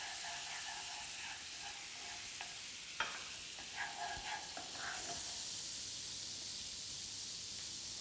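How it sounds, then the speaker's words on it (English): Brandy hits a pan of garlic and foamy butter, setting off a steady, close sizzle and bubbling hiss with a few soft stirring clicks, and no talking. "add in the brandy. Watch at this point because it'll bubble a lot."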